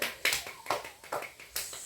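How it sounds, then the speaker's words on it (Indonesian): One person behind the camera claps their hands five times at an even, unhurried pace, each clap sharp and close. "yang di belakang kamera tepuk tangan"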